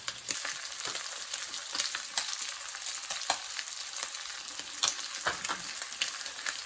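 Pecan-crusted permit fillet fries in a hot pan, a steady close sizzle with crackling pops and occasional stirring scrapes, with no talking.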